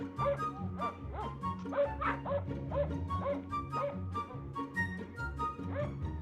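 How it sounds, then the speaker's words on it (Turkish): Several dogs bark and yip repeatedly at a distance, with some whimpering mixed into the ongoing chorus. "Köpekler var falan var."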